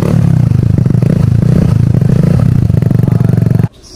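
Suzuki Burgman 125 scooter fitted with a full-system muffler and no silencer, its engine held at a loud, rapid, raspy rev with a steady pulsing throb for several seconds before cutting off abruptly.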